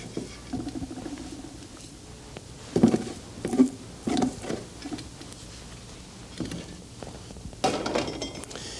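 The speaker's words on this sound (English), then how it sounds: "Spoon it out onto our board here." Thick, creamy pistachio burfi, an Indian milk sweet, is spooned out of a pan onto a board, giving soft scraping and tapping noises with a few sharper clinks of the spoon, all quiet and close with no talk.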